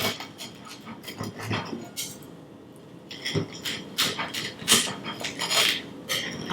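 Crisp crunching and crackling as buttered coconut toast is cut, in irregular bursts of sharp crackles close by, with no talking.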